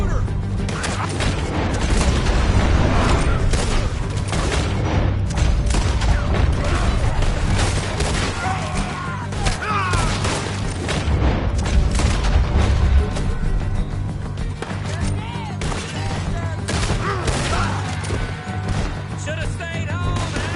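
Gunfire rings out in Red Dead Redemption 2 during an assault on a farmhouse, with repeated shots and crashes piling into a dense, continuous barrage over a loud game mix, while voices speak over it.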